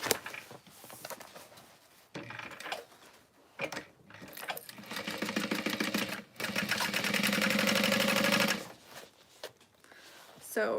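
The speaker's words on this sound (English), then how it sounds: "I'm going to start in the lining with a little bit wider of a seam allowance, come down to here, kind of pivot out, and then sew there." A sewing machine stitches a seam in a garment lining, whirring in bursts that stop and restart around a pivot, with one longer steady run near the end, close and fairly loud.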